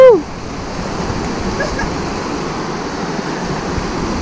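A river by Kennon Road near Baguio rushes with steady broadband water noise, loud and continuous throughout, with a brief voice exclamation at the very start.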